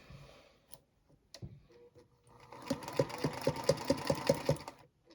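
A sewing machine stitches a fabric book cover in short bursts of rapid, even needle clicks, preceded by quieter handling noises; close and fairly soft, with no talk.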